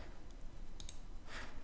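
Computer mouse clicking on lines in Hypermesh CAD software: a faint tick, then a close pair of quick, crisp clicks, over a low steady background hum.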